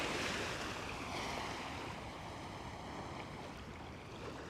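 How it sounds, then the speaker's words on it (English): Ocean waves wash onto a quiet Coney Island beach in New York, a continuous soft roar of surf mixed with light wind noise and no voices. "Trying to be quiet so you guys can hear the waves and all that."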